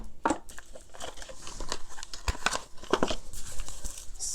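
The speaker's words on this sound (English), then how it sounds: "So I'm shuffling on the camera so you see it." Crisp papery shuffling and flicking of tarot cards, quick irregular riffles and taps close by, with no talking.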